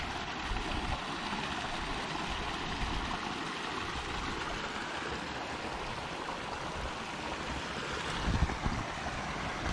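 Rushing water from a small creek and waterfall on the Quehanna Trail flows with a continuous broadband hiss, steady and fairly close, with a slight swell near the end.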